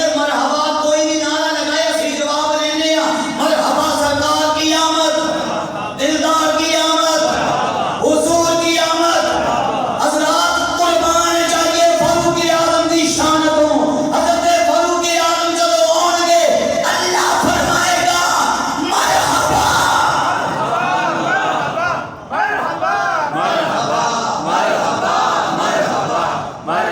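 A large crowd at a religious mehfil gathering chants responses in unison, loud, rhythmic and near, with repeated phrases answering a leader's slogans and brief gaps between chants.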